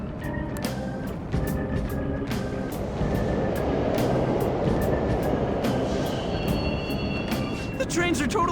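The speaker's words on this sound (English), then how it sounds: "The trains are totally running!" Subway trains rumble steadily through an underground station in Persona 5 Royal, a continuous heavy rolling roar with clanks and faint high squeals over music, building louder toward the end.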